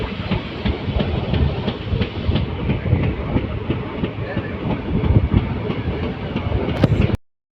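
A passenger train on the Alipurduar Junction to Siliguri Junction run rolls steadily through a low-speed section near a cabin, with a continuous rumble and rhythmic wheel clatter, close and loud throughout before cutting off abruptly.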